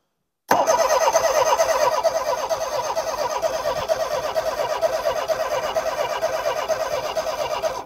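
A small Homelite Stingray engine with weak fuel flow is cranked without catching, giving a close, steady rhythmic churning that begins abruptly and runs for about seven seconds.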